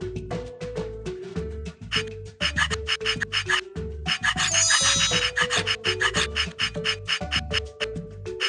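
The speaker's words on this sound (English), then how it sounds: "Move a polishing file over the nail." Polishing file rubbing back and forth over a fingernail in a cartoon nail salon game, heard as steady repeated rasping strokes over a looping game melody.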